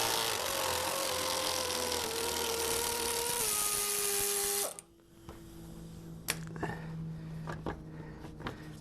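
A power tool whines steadily while backing out a lower fan shroud bolt on a 2005 Aviator, Explorer or Mountaineer, then cuts off, leaving close metallic clinks and tool handling sounds.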